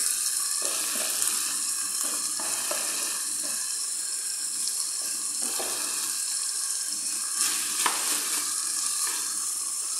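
Minced beef stew sizzles steadily in a pan as vegetables go in, with a few scraping stirs and light clinks over the constant frying hiss; no one speaks.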